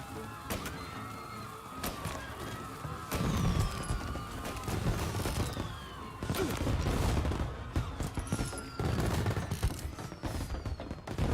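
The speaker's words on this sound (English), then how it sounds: "And now for the fireworks" Fireworks in a Mafia Definitive Edition game scene: a steady barrage of crackling bursts, pops and whistling streaks over about eleven seconds, loud and continuous with sharp impacts throughout.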